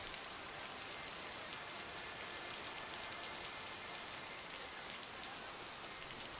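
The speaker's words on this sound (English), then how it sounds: "Can't harvest taters with all this rain." Steady rain in the 2021 PC video game Lake, a dense, even hiss of drops falling continuously on surfaces throughout, with no voices.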